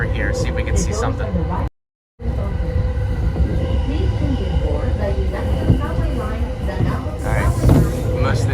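Chuo Line train rumbling past near a river in Tokyo, a continuous low mechanical roar with humming tones and rattling under outdoor street noise, while someone talks over it.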